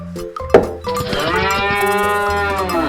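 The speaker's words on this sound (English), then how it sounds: "We have some cattle," Cattle in a farm setting give a loud, drawn-out moo close by, preceded by a short clink, with the low bellow sustaining for about two seconds.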